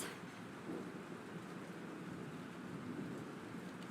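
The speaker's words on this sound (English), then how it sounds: "This storm is real." Thunderstorm with steady heavy rain in the video game Life is Strange, a continuous low rumbling wash of rainfall at a moderate level with no voices.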